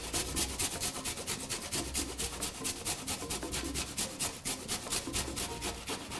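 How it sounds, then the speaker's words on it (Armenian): An onion is grated against a hand grater for a spinach pasta dish, giving a steady run of close, rhythmic rasping strokes, evenly spaced and unbroken, with no talk over it. "սոխը կարող եք կտրատել, ինչպես ուզում եք, կարող եք նաև քերել"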